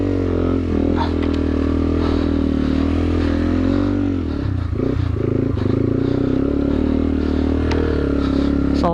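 A 2009 Yamaha TW200 dirt bike rides through mud, its engine droning loud and close throughout, dipping briefly in pitch midway as it bogs down and then revs back up, with light clatter and scraping.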